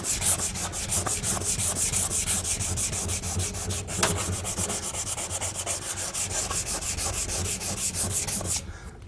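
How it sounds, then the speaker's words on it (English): Hand sanding the painted steel of a Yoder smoker, a steady, close scratchy rubbing with quick back-and-forth strokes that runs continuously with no talk. "I'm going to go ahead and sand the rest of this, the front of the smoker"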